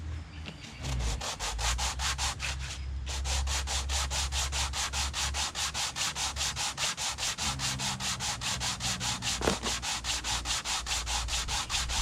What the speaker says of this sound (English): I'm gonna just hand sand it.